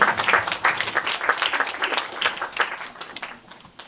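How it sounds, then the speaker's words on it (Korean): At a Catholic film festival's closing ceremony, an audience claps steadily to welcome a film director onto the stage; the applause is thick and continuous, then gradually tapers off toward the end. "네, 박수로 맞아주시죠"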